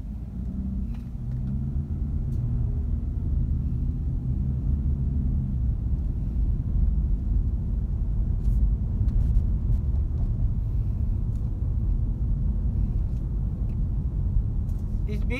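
Busy road traffic is heard as a continuous low rumble of passing vehicles, steady and fairly loud, with faint brief clicks on top.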